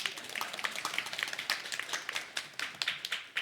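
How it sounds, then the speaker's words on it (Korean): A church congregation claps together in a sparse, uneven burst of individual hand claps, fairly faint and roomy, with no speech over it. "박수 한번 치시기 바랍니다."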